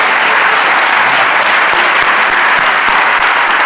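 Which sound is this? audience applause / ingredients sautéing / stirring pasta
audience applause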